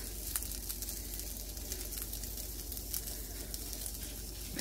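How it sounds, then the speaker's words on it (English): Lamb and beef gyro meat searing in a dry pan with no oil, giving a steady, close hiss and sizzle with faint crackles throughout and no talk. "We're just going to throw a gyro into the pan for"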